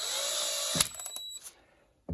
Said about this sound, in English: I'll take my drill, and you just put the threads in the chuck